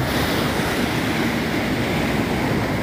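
Rough ocean surf growing more aggressive at a surfing beach in the USA, a loud, dense wash of breaking waves with wind noise buffeting the microphone.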